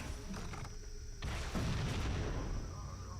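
Halo video game explosions, muffled booms and artillery-like blasts layered over a noisy battle backdrop, with a heavier rumble building in the second half and a sharp burst at the very end.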